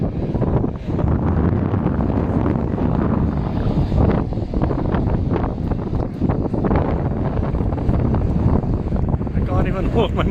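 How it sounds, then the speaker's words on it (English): Strong gusting wind buffeting a handheld phone microphone at a coffee shop in Tangier, Morocco, a constant loud rumble filling the whole clip with no pauses. "I can't even hold my mobile well because of the wind."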